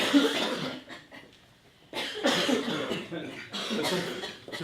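A group of people coughs on cue in a theatre exercise, with bursts of coughing and throat noises in waves, separated by a quieter pause, mixed with chuckles and breathing.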